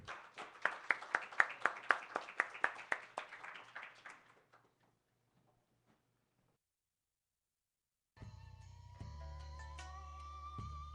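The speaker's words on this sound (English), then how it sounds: "let's give one more final round of applause to Christopher Harold and Mike O'Connor" A small audience at a poetry open mic gives a round of applause, a few seconds of scattered, distinct claps that thin out and stop, followed by silence and then quiet music.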